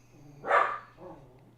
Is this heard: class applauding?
no